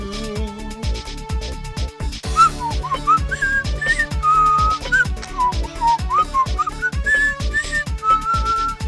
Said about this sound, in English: I should not be whistling because I don't really know how to properly whistle, actually.